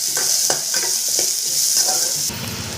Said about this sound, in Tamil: இப்போ நான் வந்து ஒரு பெரிய வெங்காயம் கட் பண்ணி வச்சுருக்கேன். அதை போட்டு நல்லா பொன்னிறமாக வர வரைக்கும் வதக்கிக்கலாம்.